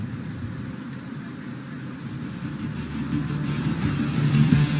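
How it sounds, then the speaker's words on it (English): Aircraft flying during an air show, a broad distant engine roar that swells steadily louder as the plane approaches, with no talk. "watch as he inverts his aircraft and pulls through for a split S, turning her around in no time"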